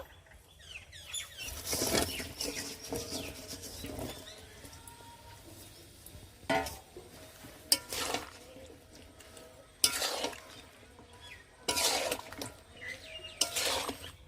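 Ash gourd pieces are stirred in bubbling sugar syrup in a pot, giving intermittent scraping and clattering bursts of the spoon against metal with quieter simmering between them.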